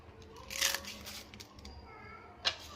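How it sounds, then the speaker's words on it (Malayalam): Cornflakes are crushed by hand for a milkshake, giving a few close, crisp crunches, one longer burst early and a sharp short one near the end, over a quiet background. "കോൺഫ്ലെക്സ് കൈകൊണ്ടൊന്ന് ക്രഷ് ചെയ്തിട്ട് വേണം ചേർത്ത് കൊടുക്കാനായിട്ട്"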